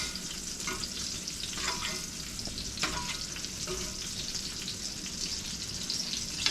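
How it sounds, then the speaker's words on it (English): Steady, crackling sizzle of chicken fried steak frying in a hot pan, with occasional louder pops and spits over a constant hiss, close by. "The lovely sound of sizzling meat."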